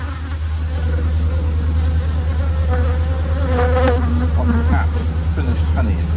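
Honeybees swarm and buzz around an open beehive, a dense, loud, steady drone with individual bees whining past near the listener, under a low constant hum.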